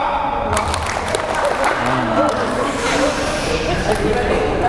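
An audience at a corporate coaching and mentoring session claps together in a chant, a dense steady wash of many hands under crowd murmur and voices, loud and continuous throughout.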